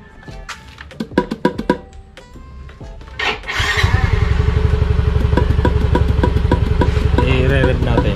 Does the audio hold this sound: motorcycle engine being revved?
yes